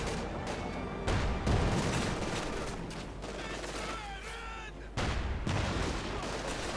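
Gunfire and artillery explosions from a Company of Heroes 2 1v1 match, with dense bursts of shots and booming impacts layered over battlefield noise, while a commentator talks over the action.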